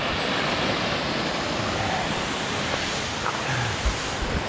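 Steady broadband rush of water from a waterfall beside a hiking trail in Cheaha State Park, continuous and fairly loud with a few faint knocks near the end.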